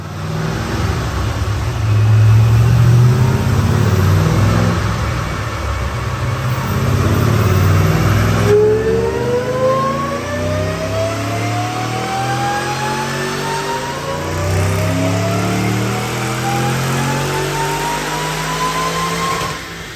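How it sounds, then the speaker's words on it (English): A supercharged 2006 Saleen Mustang with stock manifolds and cats, Detroit rocker cams and manual transmission, roaring loud and steady through a full dyno pull, engine pitch climbing continuously as revs build, with no talk over it. "Check out this dyno pull."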